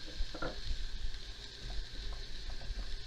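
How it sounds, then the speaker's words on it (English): Broccoli and vegetable protein sizzle steadily in a hot stir-fry pan, a continuous close crackle with occasional stirring knocks and no talking. "You can hear it sizzling."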